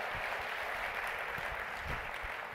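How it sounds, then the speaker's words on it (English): An audience at a keynote talk applauds steadily as a volunteer comes up to join the speaker on stage, a dense, even wash of clapping with no one speaking over it. "Can we give her a big round of applause as she joins me?"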